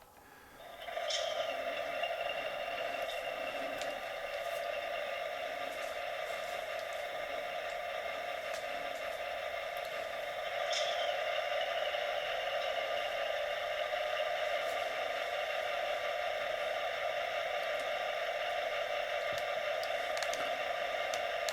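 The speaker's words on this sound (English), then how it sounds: "we're going to hit F8, which starts up the ESU Loc Sound decoder in this ALP-45 DP" ESU LokSound decoder start-up sound in an Atlas ALP-45DP model locomotive: a steady electric hum with layered tones, holding for over twenty seconds, with two brief high chirps near the start and midway.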